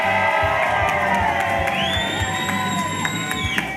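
A crowd at a community outreach session cheers, whoops and shouts in a loud, continuous roar, with scattered high yells over it and a sustained tonal sound running through.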